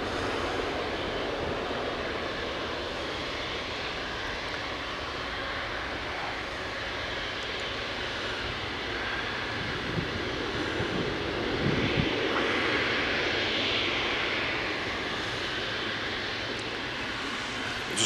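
An Emirates Boeing 777 takes off at Manchester Airport, its jet engines giving a sustained, broad roar heard from a distance that swells slightly midway and keeps rumbling steadily, with no talking.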